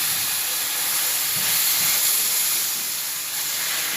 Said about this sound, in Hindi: अब इसके अंदर हम ये आधा किलो दूध ऐड कर देंगे